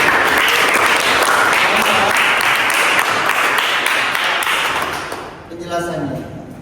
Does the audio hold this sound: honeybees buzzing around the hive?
no